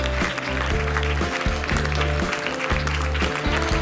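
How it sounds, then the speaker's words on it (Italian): A beauty pageant audience applauds a contestant while loud music plays, the clapping a continuous wash layered over a strong beat and bass line. "un applauso per Siria"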